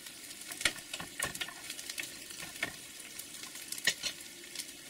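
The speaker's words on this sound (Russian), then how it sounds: "Начинаю обжаривать лук." Onions frying in a pan give a soft, low-level sizzle, broken by scattered clicks and scrapes of stirring, close by and without voices.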